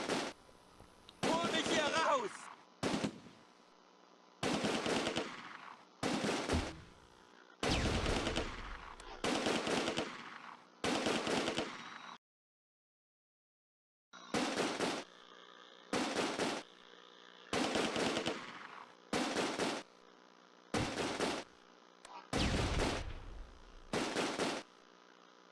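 Gunfire from infantry squads in the World War II strategy game Close Combat, repeated bursts of machine-gun and rifle fire separated by short gaps and one longer pause, loud and sharp, with no talk over it.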